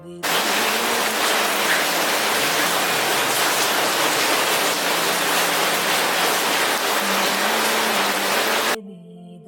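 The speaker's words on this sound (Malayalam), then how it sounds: "മഴ കാണണ്ടേ" Rain falls steadily outside as a loud, dense, continuous wash that holds even for most of the stretch, then stops abruptly near the end.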